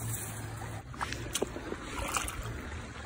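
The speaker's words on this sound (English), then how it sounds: "So this little stream, and then we have this next to the main part of the creek." Small stream running beside the main channel of Oak Creek in Arizona, with a soft steady trickle and slosh of water over slippery algae-covered rocks, close by and alone, with a few faint splashes.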